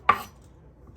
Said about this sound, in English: So this is the spring onions. Just give it a slice.